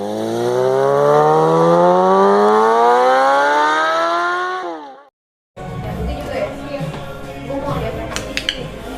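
A Suzuki GSX-R750 sport motorcycle engine revs up in a long, rising, harmonic whine, cuts off briefly, then rumbles on with clattering background noise.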